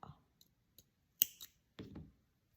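Scissors snip threads of fine bobbin lace for a butterfly piece, giving a few quiet, sharp close clicks separated by silence.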